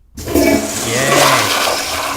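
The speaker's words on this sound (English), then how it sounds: "The only thing left to do now is flush." A toilet flushes loudly after a brief moment of silence, its rushing, gurgling water filling the next two seconds without any talk.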